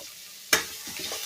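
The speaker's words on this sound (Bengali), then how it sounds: "এবার এটাকে ভালো করে ভেজে নেব।" Prawns frying in a pan with onion, green chilli and tomato: a sudden loud sizzle burst as the mix is stirred, then quieter crackling with a few scraping stirs, close by.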